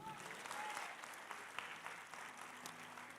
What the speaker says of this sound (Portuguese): Vamos aplaudir o nome dEle?